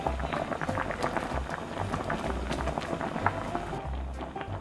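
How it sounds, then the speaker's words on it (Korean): Buckwheat noodles boiling in water: a steady bubbling and rolling boil, continuous and close, with faint low knocks underneath. "준비한 메밀면은 끓는 물에 넣고 잘 풀어가며 약 3분 30초 정도 삶아주세요."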